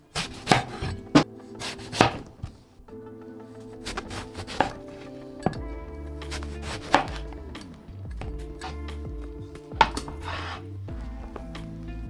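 Eggplant is chopped with a knife on a board, a series of sharp, close chops in irregular bursts, with music playing underneath.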